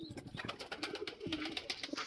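A small flock of about a dozen pet pigeons coos softly in a quick run of calls. The sound is faint and seems a little distant, with no other sounds.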